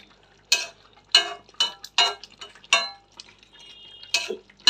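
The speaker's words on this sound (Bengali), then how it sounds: "গরম মশলাটা দিয়ে একটু মিলিয়ে দিলাম" A spoon stirs prawn malai curry with garam masala in a pan, giving a series of sharp metallic scrapes and clinks in an uneven rhythm, close and clear, with a faint sizzle between the strokes.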